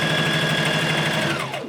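Sewing machine stitching a cloth face mask with elastic, a rapid even whirring run that slows and winds down at the very end.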